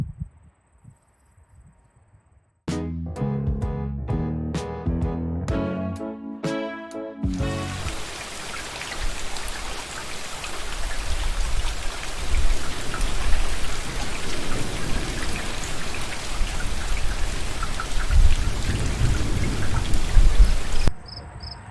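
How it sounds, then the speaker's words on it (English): Following a few sharp metallic clicks, a steady heavy patter of simulated rain hisses continuously onto soil pans, building slightly before stopping abruptly. "I put the first inch of rain on each of our 5 pans."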